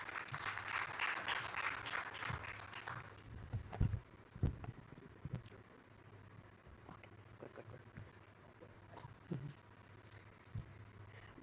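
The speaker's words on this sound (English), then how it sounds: "Let's all welcome him with a big round of applause." An audience at an investors summit in Mumbai applauds, with dense clapping for the first few seconds that thins into scattered claps and soft room noise.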